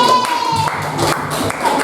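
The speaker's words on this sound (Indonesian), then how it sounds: "Beri tepuk tangan untuk kelompok Tupan." Classmates in a classroom applaud a student group after their presentation, a short burst of scattered hand claps mixed with a teacher's voice and room chatter.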